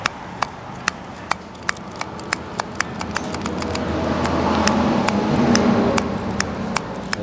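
A Thai motorbike key lock set being turned over and over, giving a steady series of sharp, close metallic clicks at an even rhythm against a faint background hum, with no talk.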